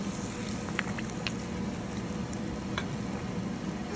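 Okra and meat sizzling together in a pot, a steady close frying hiss with scattered small pops and crackles throughout, no talking.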